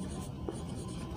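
Pen scratching across paper while a math problem is worked out by hand, a steady, close, continuous writing rasp with no talk over it.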